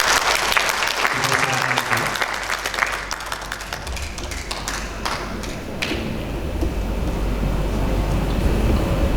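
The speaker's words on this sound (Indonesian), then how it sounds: "kita tepuk tangan dong yang luar biasa" An audience at a national church retreat breaks into sustained, dense clapping that fills the room, with some thumps and a voice faintly underneath as the applause gradually thins toward the end.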